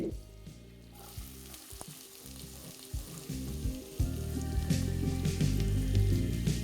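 Chopped onions fry with whole cumin and dried red chillies in hot oil, a close, steady sizzle with occasional stirring that grows louder and busier toward the end.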